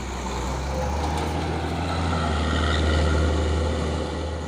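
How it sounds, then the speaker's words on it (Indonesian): Heavy trucks, including a CPO tanker, grinding uphill on a steep road, a loud steady low engine drone with rumbling road noise that holds evenly throughout, no voices. "Terpantau rame lagi truk-truk yang mau menanjak ini ya."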